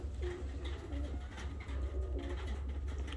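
Ornamental and costume pigeons coo in a loft. Low, rolling coos repeat over a steady low hum, with several birds close by.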